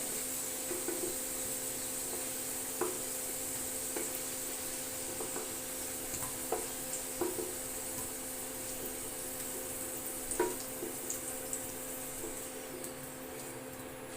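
Steady sizzling of potatoes frying in hot oil until reddish-brown, with occasional soft clinks and scrapes over the continuous hiss.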